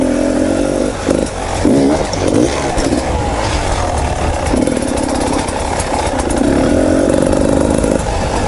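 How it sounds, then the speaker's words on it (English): Motorcycle engine running loud and close on an off-road trail, a steady rumble with small dips and surges in pitch as the rider shifts up a gear, no speech. "I'm gonna go up to second gear."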